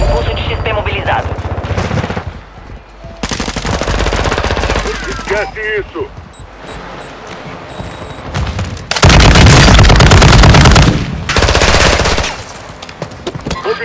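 Rapid machine-gun bursts and heavy gunfire from the video game Call of Duty: Modern Warfare II (Warzone 2) come in loud, dense volleys with booming impacts, while players talk over the action.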